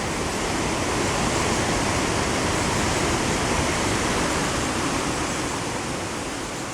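The Cuyahoga River rushes below the Ohio Edison Dam in Gorge Metro Park, a broad, constant roar of churning water heard from downstream, loud and unbroken throughout with no voices.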